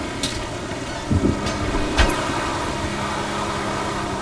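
A tank rolls in during a GTA V military base raid, a steady mid-range engine rumble with a few heavier thumps and bursts, heard moderately close and without talk.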